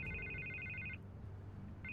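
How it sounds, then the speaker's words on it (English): A telephone rings in Batman: The Telltale Series, with two electronic trill bursts separated by a short gap over a low game background hum and no speech. "I can't get the phone to stop ringing"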